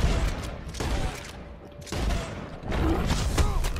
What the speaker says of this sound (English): He's about to get a pump shotgun in the mouth!